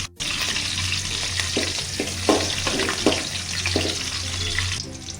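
Cut green chillies fry in hot oil for an egg curry, with a loud, continuous sizzle and a few stirring clinks near the pan.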